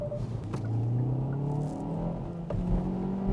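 Hyundai i30 N Line in manual mode accelerating hard toward 6000 rpm and shifting quickly up to fourth gear, a steady loud engine drone with rising pitch and brief dips at each upshift, no talking.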